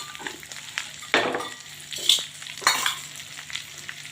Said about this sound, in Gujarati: હવે ભીંડાને થોડા થોડા શેકી લેવાના છે પહેલાં તેલના અંદર